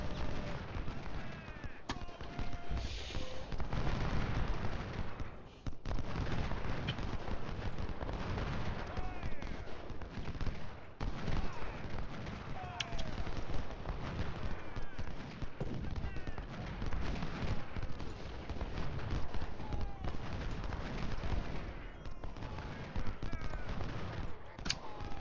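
Musket volleys and artillery fire from a Civil War battle in Ultimate General: Civil War, a dense, continuous crackle of gunfire with heavy booms rolling on throughout, a voice talking over it now and then.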